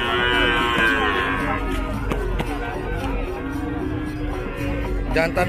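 Cattle at a livestock market on Sapudi Island, in a pen area for young bulls, with steady low lowing and shuffling close by under continuous crowd noise and voices.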